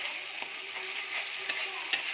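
Tomato paste fries in hot oil and is stirred in a pan, giving a soft, continuous sizzle with a few light scraping and clinking touches from the stirring, quiet and close with no talk.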